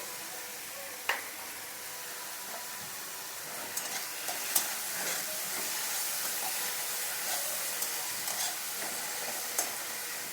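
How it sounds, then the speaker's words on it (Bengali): Stuffed masala potatoes sauté with a little salt in a pan for a dhaba-style curry, giving a steady broad sizzle with occasional scraping stirs and small clicks throughout. "ভালো করে একটু কষিয়ে নিই"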